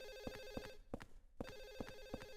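A telephone rings in Silent Hill 4: The Room, its bell repeating in short regular double trills with brief gaps, faint and alone without any talk over it.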